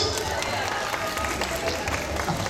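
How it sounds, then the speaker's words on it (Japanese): A baseball stadium crowd claps and murmurs to vote in a Chunichi vs. Chiba Lotte mascot portrait contest, a faint, distant patter of applause blended with crowd noise. "シャオモンが描いてくれたりんちゃんのがいいと思った拍手。"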